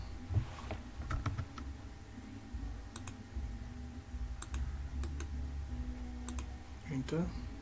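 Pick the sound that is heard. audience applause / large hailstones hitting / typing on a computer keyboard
typing on a computer keyboard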